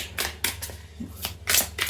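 A deck of tarot cards is shuffled in quick bursts, several crisp riffling rustles repeating at a steady pace, close and fairly loud with no talking.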